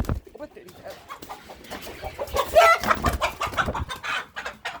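A rooster clucks in a run of short, close, irregular calls, louder toward the middle, with a voice talking over it.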